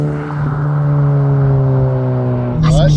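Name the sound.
Honda Civic Type R FL5 engine revving with throttle blip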